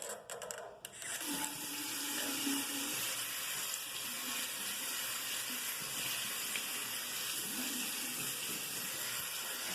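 Tap water running steadily into a sink while a face mask is rinsed off, a continuous close splashing flow after a brief clatter at the start, with no speech.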